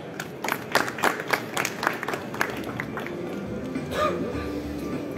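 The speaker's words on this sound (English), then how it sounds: "a big round of applause for him, everyone" Applause from an audience, scattered claps that swell then thin out, with crowd murmur in the room and faint talk near the end.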